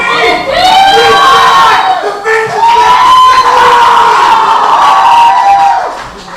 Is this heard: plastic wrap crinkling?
no